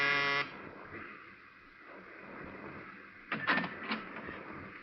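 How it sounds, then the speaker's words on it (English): Apartment door buzzer pressed in a radio drama, a short harsh electric buzz at the start, then quiet room tone and a couple of brief sharp clatters. "but I pushed the buzzer anyway."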